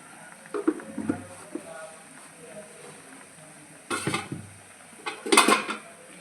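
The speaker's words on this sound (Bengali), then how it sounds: "ঢাকনা দিয়ে ঢেকে রেখে দিয়েছিলাম, যে এখন ঢাকনাটা খুলে দিয়েছি।" A metal lid lifted off a cooking pot of potol posto, a couple of clattering clanks near the end, close and fairly loud after a quieter stretch of faint kitchen noise.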